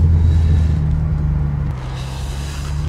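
Steady low engine rumble of traffic rolling past nearby, a continuous drone that shifts slightly midway as one vehicle gives way to the next.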